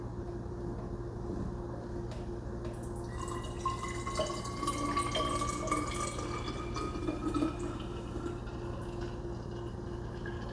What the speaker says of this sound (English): Let's pour it in here.